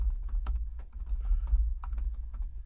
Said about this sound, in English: let's type that in again.